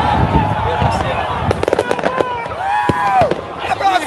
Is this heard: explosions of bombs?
yes